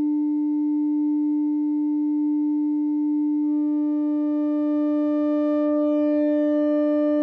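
Synthesizer oscillator whose VCA is amplitude-modulated at audio rate by a second, alternate waveform from the oscillator, giving a steady, loud, sustained harmonic tone whose upper sidebands thicken and shift partway through, heard alone.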